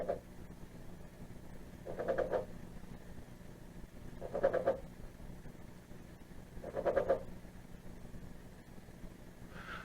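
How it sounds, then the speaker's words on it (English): Low, throaty tomato frog croaks come in short bursts every couple of seconds, four in a row, over a quiet hum. "You can hear my tomato frog Scarlet croaking at us."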